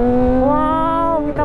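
Kawasaki ZX25R motorcycle ridden along a road near Lake Toba, its high-revving engine holding a steady, loud harmonic whine that rises slightly in pitch before easing off near the end.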